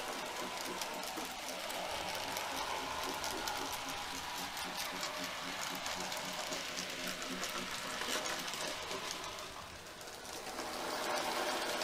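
An N gauge model B1 steam locomotive hauling Mark 1 coaches runs past on a layout, a steady close rattling clatter of small wheels on rail joints that swells and holds for the whole stretch.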